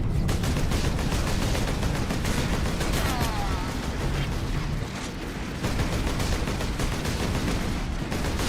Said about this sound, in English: Why am I shooting my buddy?